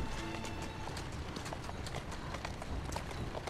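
Steady hoof clip-clops of a horse trotting at an even rhythm in Assassin's Creed Syndicate, close and continuous over a constant background.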